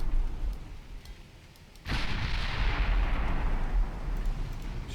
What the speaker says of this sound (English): Just doing massive damage against light ships with these heavy guns.